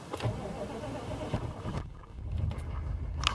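A 1996 GMC Suburban 1500 SLE with a 6.5 turbo diesel cranks over from cold and catches, a low rumbling engine building into a steady rough idle, heard nearby without talk.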